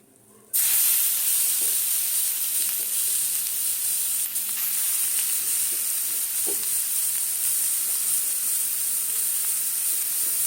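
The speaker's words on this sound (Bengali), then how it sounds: "ঘি দিয়ে ভাজবো গাজরটাকে একটু" Carrot frying in ghee, which starts abruptly as a loud, steady hiss and sizzle that holds throughout, broken by occasional stirring clinks.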